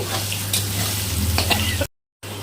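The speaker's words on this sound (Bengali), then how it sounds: "আলুগুলো হলুদ আর লবণ দিয়ে ভেজে নেব" Oil crackles and sizzles steadily as potatoes fry in a pan, with a low hum underneath, then a brief cut to silence before the sizzling resumes.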